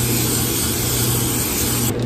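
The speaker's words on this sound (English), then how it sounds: "So I usually spray the bottom of this aluminum pan." Cooking spray hisses steadily onto the bottom of an aluminum pan, a close, loud, continuous spray lasting about two seconds before cutting off.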